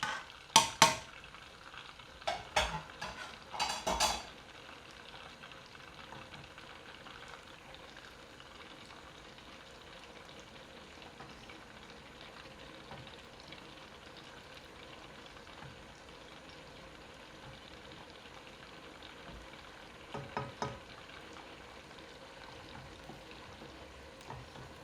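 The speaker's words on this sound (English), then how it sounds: "just give it a little mix as that's boiling over" Thick, reducing pumpkin halwa is stirred in a saucepan, with a few sharp scraping clatters at the start and again near the end over a quiet, steady bubbling simmer, with no talking.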